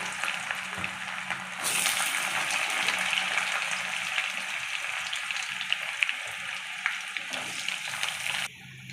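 Chopped carrots sizzle and fry in a pan for mixed fried rice, a steady close crackling hiss that swells as they hit the oil and runs on alone.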